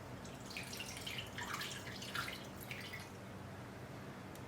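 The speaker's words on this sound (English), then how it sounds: "You just keep pouring it in until we get a bowl full" Liquid is poured into a bowl while preparing food for pressure canning, a soft, quiet trickle and splash with faint dripping, close by and with no speech.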